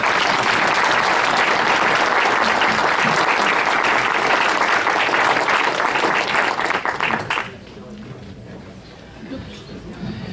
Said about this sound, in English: and you may applaud.